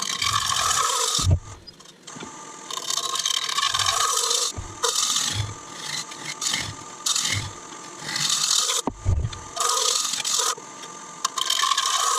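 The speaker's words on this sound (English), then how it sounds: "the negative rake scrapers coming out to play" A steady scraping rasp of a tool cutting spinning wood, running in long passes with brief pauses between them, close and fairly loud.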